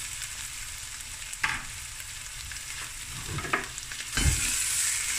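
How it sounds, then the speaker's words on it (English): Blade beef frying with browned onions in a couple of tablespoons of oil in a pot, a steady hissing sizzle with occasional stirring scrapes and louder bursts, close up and without talk. "Let this fry for a few minutes."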